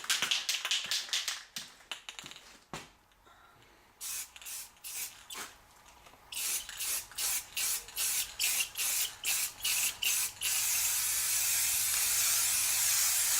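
Spray paint hisses onto parts of a red truck during assembly, first in quick rapid bursts, then a string of evenly spaced short sprays, ending in one long continuous spray, loud and close.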